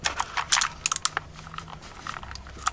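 Quick, uneven clatter of keystrokes on a cheap all-plastic mechanical keyboard with a plastic top plate, sharp crunchy clicks close to the mic in irregular bursts, with no talking.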